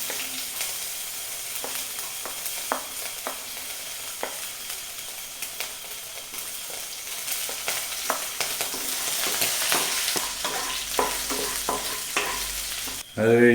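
Ginger and green chillies frying in a pan make a steady close sizzle with scattered pops and the clatter of stirring. The sizzle swells louder toward the end before a brief break and a final burst.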